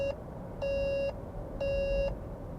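A SsangYong Rexton's hands-on-wheel warning sounds three clean electronic beeps, a short chirp followed by two longer tones at a steady pace, moderately loud over low cabin road hum.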